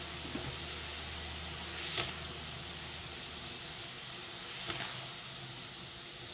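Washed dried fish simmers in hot water in a kadhai, giving a faint, steady hiss and bubbling. A few soft clinks sound from the pot now and then. No voices are heard.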